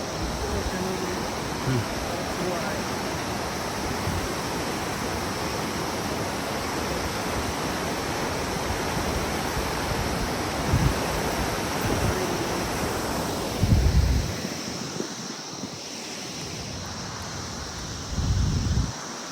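Rushing water of a mountain stream under a bridge, the Dhuwa Khola near Mabu in Ilam, Nepal, in a steep hilly setting; a steady, loud broadband roar runs throughout, with a few brief thumps and wind buffets near the end.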